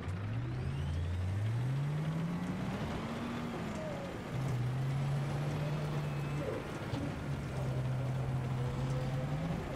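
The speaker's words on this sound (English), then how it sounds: "watching me drive around in tanks in Battlefield" A tank rumbles along in Battlefield 3, its engine a steady low drone whose pitch rises and falls as it drives, loud and continuous for the whole stretch with no voices.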